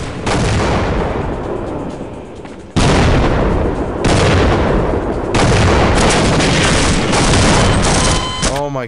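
A shotgun in Half-Life fires several loud, booming blasts spaced a second or so apart, each with a long, ringing decay, ending with a short rattling sound.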